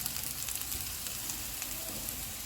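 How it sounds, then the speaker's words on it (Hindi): Green chillies frying in a pan for aloo kofta curry, a steady close sizzle with soft crackling pops throughout and no voices. "इसको 1 मिनट तक फ्राई करेंगे।"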